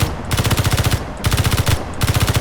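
Automatic turret gunfire in the video game Space Engineers, loud rapid bursts of machine-gun fire in three close volleys separated by short pauses, with no talking.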